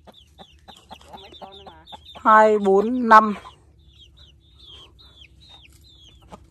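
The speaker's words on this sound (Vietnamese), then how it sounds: "Có mấy con gà này, nhốt mấy con này?" Chickens, hens and roosters, cluck in a coop with scattered short clucks throughout and a louder, drawn-out call in the middle. People talk nearby.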